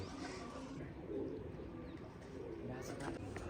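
Pigeon cooing, including a sick pigeon brought home a day earlier, rises softly amid a dense, noisy background of low rumble and possible murmured voices throughout.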